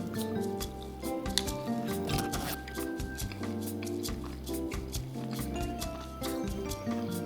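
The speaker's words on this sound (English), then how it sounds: "It's actually gonna drip, so I'm gonna bite again quickly." Biting into a Taco Bell Double Chalupa dripping with nacho cheese sauce, close wet squishing and crunchy chewing noises in a steady, repeated pattern.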